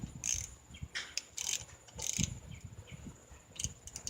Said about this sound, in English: then I'll take a socket wrench to it and loosen them up after that